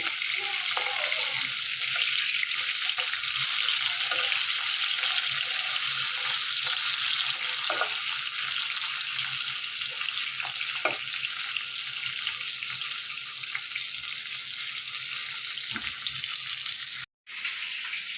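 Fish frying in a pan on a home kitchen stove gives a loud, continuous close hiss of sizzling oil that runs steadily throughout, with faint soft knocks now and then and one brief cutout near the end.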